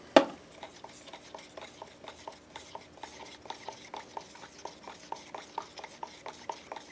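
Alumilite regular resin is stirred with black dye in a cup, a quiet, regular series of scraping clicks from the mixing stick, preceded by one sharp knock at the start.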